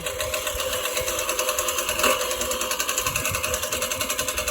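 A Gardena 380 15-inch manual reel mower cuts a lawn with a fast, steady whirring clatter of spinning blades, close and continuous with a slight rhythmic pulse.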